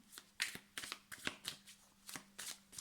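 A deck of tarot cards is shuffled by hand in repeated soft riffling bursts, close and quiet, with a faint low hum underneath.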